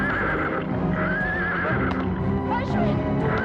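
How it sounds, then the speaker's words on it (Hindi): Horse neighing in a dramatic scene, with several shrill whinnies and hoof clatter, loud and close, under agitated shouting voices throughout. "इस घोड़े को रोको।"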